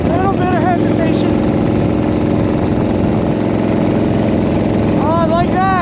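A 1940 flathead car engine runs loud and close after a shift into fourth gear, a steady droning rumble with a brief rising whine near the start and again near the end, and someone talks over it.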